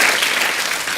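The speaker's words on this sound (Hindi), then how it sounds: "जोरदार तालियां सलमान भाई के लिए और कैटरीना मैम के लिए" A studio audience on a comedy talk show claps loudly for Salman Khan and Katrina Kaif in a brief, dense burst of applause.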